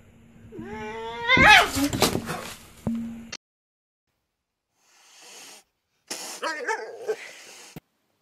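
A dog barks in short, loud bursts in two separate groups divided by a quiet pause, with coughing or throat-clearing noises mixed in near the start.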